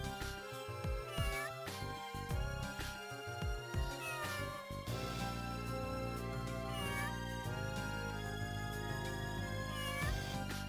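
Several cat meows ring out close and clear in Phantasy Star 0 as the cat is petted, first in a quick run of short calls, then over a steady bed of game music.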